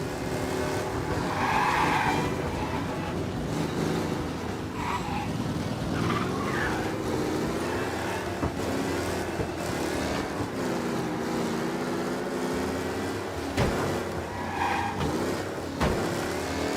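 Stolen car in the Mafia remake game, revving and skidding with repeated tire squeals over a continuous engine roar, loud and close, with occasional short bursts of other game sounds.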